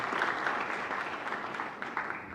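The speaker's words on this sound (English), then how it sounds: "I think big round of applause for Lohia ji and family." An audience claps at the inauguration of a business-management endowment lecture series at a university, a short burst of steady applause lasting a couple of seconds.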